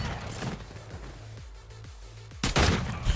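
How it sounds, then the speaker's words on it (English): Shotgun blasts in Call of Duty MW3 ring out as a handful of separate booming shots spaced roughly half a second apart, closing on a louder, denser burst of firing. "Is he using a shotgun?"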